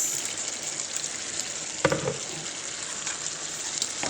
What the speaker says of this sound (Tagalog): At ilagay na natin yung pinirito nating patatas.